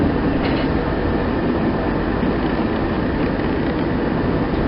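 Railway carriages roll past nearby, a loud continuous rumble and roar lasting the whole stretch with faint rhythmic clatter beneath.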